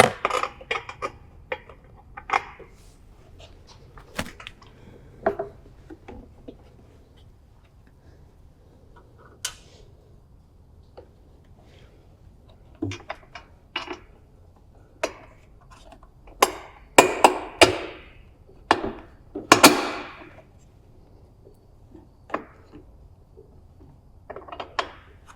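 A metal bolt is worked through a John Deere bagger bracket for a 42-inch mower deck, giving sparse clinks, scrapes and rattles of metal on metal in quiet surroundings, with a denser cluster of sharp knocks toward the end.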